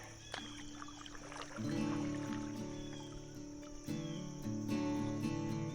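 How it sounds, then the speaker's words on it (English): An outboard boat motor restarting on a shallow, narrowing creek, its low droning hum surging up about a second and a half in, then rising again later, moderately close and with no talking. "I'll restart the motor."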